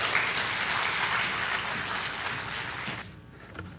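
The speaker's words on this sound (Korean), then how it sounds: "힘찬 격려의 박수로 맞아주시기를 바랍니다." A church congregation at a Wednesday service gives dense, sustained applause for two deacons for about three seconds, then it cuts off abruptly into quiet room tone.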